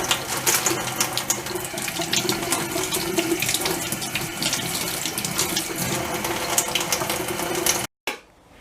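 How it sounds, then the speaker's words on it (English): Tap water runs steadily into a sink, splashing continuously as peppers are rinsed one by one under the stream, then cuts off abruptly at the end. "Now we wash pepper by pepper properly with water"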